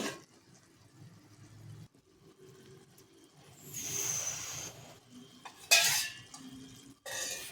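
Chicken being stirred with oil in a pan for a ragi sangati meal, with a soft, steady scraping and clinking of a spoon against the pan, a brief sharper clatter near the end, and no talk.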